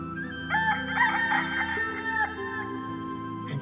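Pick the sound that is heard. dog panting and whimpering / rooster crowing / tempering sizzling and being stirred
rooster crowing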